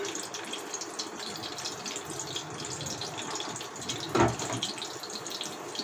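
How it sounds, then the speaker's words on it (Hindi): Finely chopped ginger and garlic frying in oil over low heat make a continuous hissing sizzle at moderate level, with a brief louder burst near the end and no voices. "ये अब फ्राई हो रहा है।"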